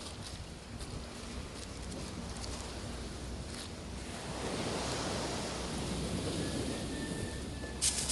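Surf washes steadily onto a beach, a broad continuous roar of waves with wind, alone and fairly constant with slight swells in intensity.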